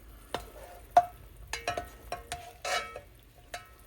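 Green peppers and onions go into a gumbo pot with scattered sizzles and scraping stirs, a few sharp clinks and spoon knocks spaced irregularly, close and fairly quiet, with no talk.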